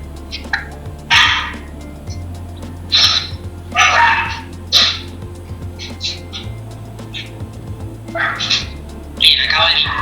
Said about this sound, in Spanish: tengo a mi perrita que está loca acá. No sé si se escucha.